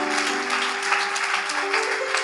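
A church congregation applauding and cheering in praise of the Lord, a dense, steady wash of clapping filling the room throughout.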